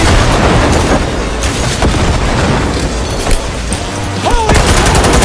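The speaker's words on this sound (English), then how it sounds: "Watch out! Grenade!" Cyberpunk video game combat: a grenade blast amid bursts of rapid gunfire, loud and dense, with booms and crackling shots throughout.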